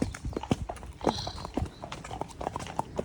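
Horse hooves clip-clop steadily in a quick, even rhythm while out hacking, each strike sharp and close, with no talking over them.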